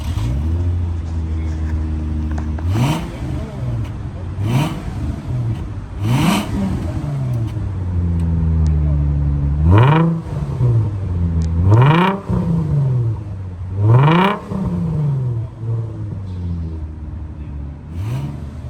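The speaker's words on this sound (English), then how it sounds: "That's with the valves opened and closed." Infiniti G35 engine revving repeatedly through valved exhaust mufflers as the valves open and close, rising and falling swells that shift between a deep muffled drone and a louder raspy roar, heard close up with no talk.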